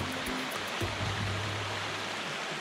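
Babbling woodland stream in a Georgia state park, a steady, even rush of shallow water over rocks that holds constant throughout with no talking.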